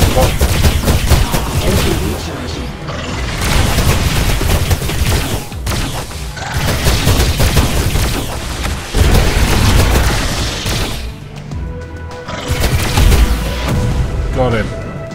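Ship weapons firing at a bot in the video game Descent: Underground, loud dense bursts of rapid gunfire and booms continuing throughout with little pause.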